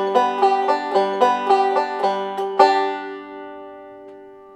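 Bright plucked banjo notes in a quick steady alternating thumb roll, repeating several times with a harder pinched accent, then a final chord ringing out and fading; basic rolling backup for Cripple Creek.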